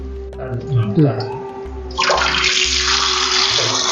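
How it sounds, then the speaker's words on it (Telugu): Curd-soaked fish pieces rinsed under running water at home: a brief splash and handling first, then a loud steady gush of water pouring for the last couple of seconds, close by. "పెరుగు వేసి నానబెట్టుకొని పెట్టుకున్న చేపలు వలుపులు కడిగేస్తున్నా పెరుగు మొత్తం కడిగేసేయాలి"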